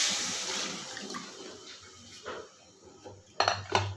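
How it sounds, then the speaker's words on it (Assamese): Boiled water is poured into a cooking pot of taro with salt, before fish is added, giving a close, splashy rush over clinks and clatter of the pot, with a couple of louder splashes at the end. "বইল কৰি ৰখা পানীখিনি দি দিম।"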